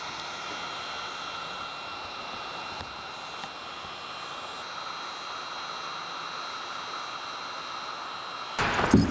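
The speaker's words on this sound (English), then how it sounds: "grab your heat gun and start heating all around the edge" A heat gun blows a steady, even airy hiss while heating vinyl chrome-delete film on a Chrysler side door, ending in a brief louder rustle.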